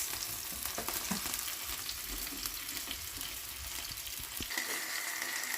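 Onions fry in a pan while being stirred, a continuous close sizzle with irregular scraping and clinking of the utensil, ending with a faint steady tone near the close; no one speaks.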